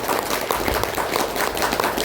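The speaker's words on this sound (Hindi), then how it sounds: "जोर से ताली बजा के" Audience clapping at a monthly block meeting in Chhatarpur district, a dense, continuous patter of many hands clapping together at moderate loudness, with no talking over it.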